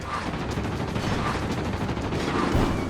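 Rapid, continuous machine gun fire from a tail gunner in the World of Warplanes flight game, dense and loud with rattling bursts over a heavy engine-like roar, no talking.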